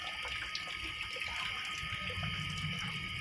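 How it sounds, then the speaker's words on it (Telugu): Tap water runs steadily while sprigs of curry leaves are rinsed under it, a continuous close splashing trickle with no talking. "కరివేపాకు ఈ రెమ్మల్ని ఫస్ట్ మనం వాష్ చేయడం జరుగుతుందండి"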